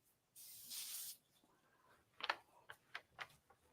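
Pro Spray aerosol is sprayed from a can in a short, close hissing burst, then several soft ticking taps follow.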